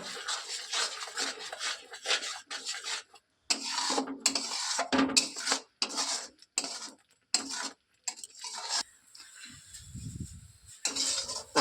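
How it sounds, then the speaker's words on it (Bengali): A spoon scraping and stirring masala with a spoonful of kasuri methi in a pan for a ghugni of green peas, with repeated rough scrapes and rubs broken by brief pauses. "এটাকেও মশলার সঙ্গে ভালো করে কষিয়ে নেব"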